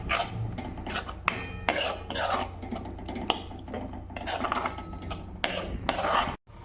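A spoon or spatula scrapes and clatters against a pan while a masala paste with salt is sautéed in oil for shev bhaji. The stirring is continuous, close and fairly loud, with sharp metallic knocks and no voices.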